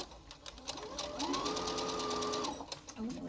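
A sewing machine stitches a cloth face mask in a fast, even run of needle strokes lasting a couple of seconds, close and clear, with a brief pause and restart at the end.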